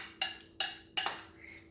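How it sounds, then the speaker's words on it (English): Utensil scraping and clinking three times in a pan of pork carnitas for a keto burrito bowl, sharp metallic strokes about half a second apart, close and alone. "And stir it up again"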